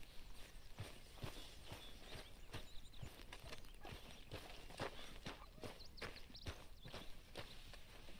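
Horse hooves clop at a steady walking rhythm in Red Dead Redemption 2 on PS5, a quiet, even series of footfalls with no talking over it.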